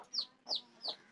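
Chickens in a rooftop garden give three short clucks spaced about a third of a second apart, near and fairly clear against a quiet background.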